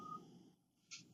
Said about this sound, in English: Yes, that's my phone.